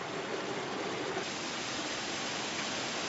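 A winter mountain stream and small waterfall in Daeseong Valley on Jirisan run beneath ice, giving a steady, even broadband rush of flowing water with no pauses.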